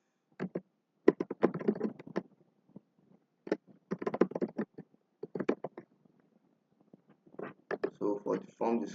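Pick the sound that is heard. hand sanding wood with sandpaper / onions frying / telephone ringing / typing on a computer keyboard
typing on a computer keyboard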